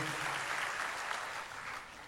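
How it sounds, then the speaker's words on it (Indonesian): Faint, distant applause from a church congregation, a brief wash of clapping that holds steady and then eases slightly. "Kita berikan tepuk tangan buat Tuhan."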